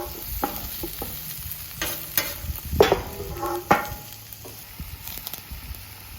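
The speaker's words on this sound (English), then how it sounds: "all I'm doing is just warming up the sausage for right now." Sausage warming on a flat top grill sizzles steadily, with scraping spatula strokes and a few louder clanks of the tool on the metal surface, close and alone.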